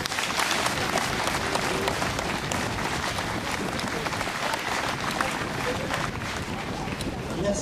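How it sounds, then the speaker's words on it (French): Outdoor crowd at a méchoui in Mas Thibert applauding the cooks, a dense, steady wash of clapping lasting the whole stretch, with voices mixed into the noise. "je vous demande bien sûr de les applaudir très fort"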